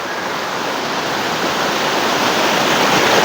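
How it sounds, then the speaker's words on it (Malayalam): Roaring rush of Ayiravally waterfall where two streams flow together and merge, a loud, dense, unbroken wash of falling water heard up close, with no talking. "തെക്കും വടക്കും എന്നുള്ള രണ്ട് ഭാഗത്തു നിന്നും വെള്ളം ഒഴുകി വരുന്നത് ഇവിടെ സംഗമിക്കുകയാണ്"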